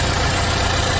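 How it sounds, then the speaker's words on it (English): A Chevrolet car engine idles smoothly and steadily right after an exhaust camshaft position sensor replacement, a loud, close, even rumble with no talking. "The engine's running a lot better"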